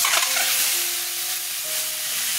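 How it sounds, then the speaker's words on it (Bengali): Eggs frying in hot mustard oil with turmeric, salt and chili powder, a steady close sizzle with light stirring throughout, no voices. "সর্ষের তেল দিয়ে দিচ্ছি, ডিমগুলো ভেজে নেব।"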